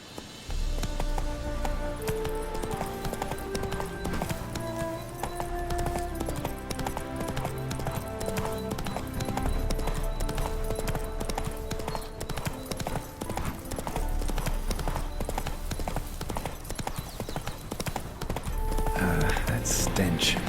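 Roach the horse galloping in The Witcher 3: Hearts of Stone, steady rhythmic hoofbeats over game music, with a voice speaking briefly.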